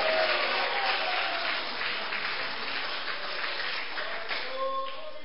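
A church congregation applauds together during a sermon, a dense, steady wash of clapping that fills the whole stretch at an even level, with a few faint voices mixed in.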